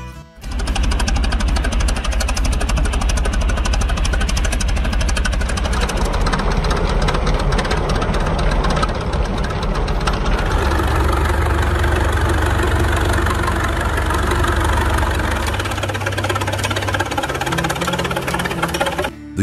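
An antique Yuba Bull Tread crawler tractor engine idles with a steady, loud mechanical chug and rapid knocking rhythm that runs continuously throughout, its tone shifting slightly partway through.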